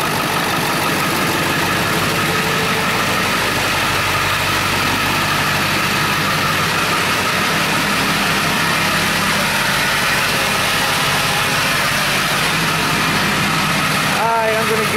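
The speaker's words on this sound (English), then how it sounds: "fired right up. I didn't skip a beat." A Ford 7.3 diesel engine idles steadily just after starting, a loud, continuous rumble with a constant mechanical clatter throughout and a brief extra knock near the end. A voice speaks over it.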